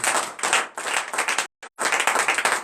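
A church congregation at a morning prayer service in Benin claps loudly and rhythmically in acclaim, close and energetic bursts broken by a brief near-silent gap before the clapping resumes.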